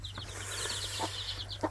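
Backyard chickens, a hen family of about eleven birds, give soft, quick repeated clucks and short high chirps over a low steady hum, faint and close, with no talking.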